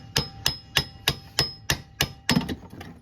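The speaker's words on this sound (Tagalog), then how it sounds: "So pwede kayo gumamit ng mahabang katulad nito, tapos martilyo o rubber mallet para lumusot." A hammer or rubber mallet drives a long rod through a motorcycle engine support axle: eight sharp metallic strikes at a steady rhythm of about three per second, close and alone, the last two coming quickly together.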